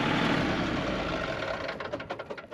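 A farm tractor engine idles close by with a steady low rumble, then chugs and sputters unevenly as it winds down toward stopping.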